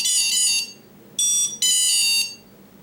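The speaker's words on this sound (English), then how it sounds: "You will get 3 beeps indicating 3S LiPo, and finally you will head here one long beep" High electronic beeps from a quadcopter's ESCs during startup, signalling a 3S LiPo battery: a long tone, then a short beep and another long tone, loud and close with no talk.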